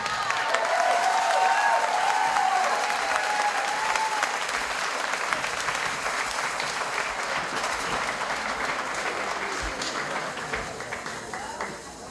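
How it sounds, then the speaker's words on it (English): Sustained audience applause fills a dance show hall, steady clapping from a large crowd holding at an even level before tapering slightly toward the end. "Another big round of applause."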